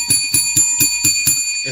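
A bell rung in quick repeated strikes, about seven bright metallic dings in a steady rhythm, close and loud with ringing overtones between hits.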